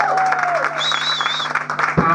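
An audience at a concert applauds a band, with dense clapping and crowd noise filling the moment alongside sustained tones and a voice.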